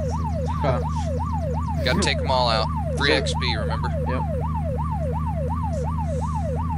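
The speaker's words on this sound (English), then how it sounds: "We're just rolling on style, siren, man." A vehicle siren in the Unturned video game wails in a fast, steady up-and-down sweep over a constant engine drone, continuing throughout while players talk over it.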